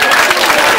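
Brief, dense burst of crowd applause at a music event, loud and continuous without pause.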